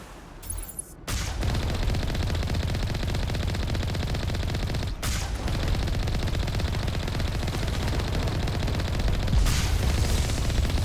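Sustained automatic gunfire in Mass Effect 1 Legendary Edition, fired while the character spins, rattling on loudly and almost without a break for about ten seconds after a short lull at the start.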